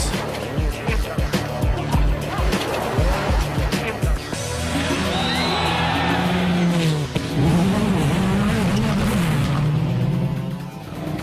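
WRC rally cars race flat out on snowy, icy stages in Sweden: rapid engine bursts and gear changes up close, then a loud roaring, revving engine sweeping past with shifting pitch, with a voice talking over it.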